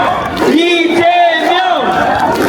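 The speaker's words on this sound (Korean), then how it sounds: "우리 부산 시민 여러분 함께 외쳐주십시오. 이재명! 이재명!" A big outdoor crowd of Busan citizens at a political rally chants the presidential candidate Lee Jae-myung's name in unison, a loud rising and falling two-beat vocal swell with many voices blending together.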